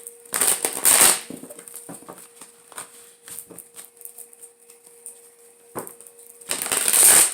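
Short riffling bursts of cards being shuffled at the start and end, with soft clicks and taps in a quiet room between them.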